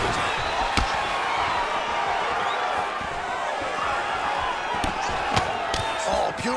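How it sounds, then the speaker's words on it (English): An arena crowd at a UFC 293 fight between Israel Adesanya and Sean Strickland keeps up a loud, continuous roar, with sharp slaps and thuds from the cage cutting through the din. "You hear this crowd just eating out of his hand, oohing and ahhing every time he advances."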